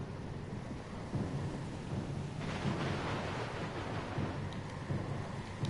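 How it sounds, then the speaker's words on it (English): Thunder rumbles through steady rain during a storm at sea in the video game Pillars of Eternity 2, the storm noise sitting at moderate distance without voices. "Lost and alone in the storm?"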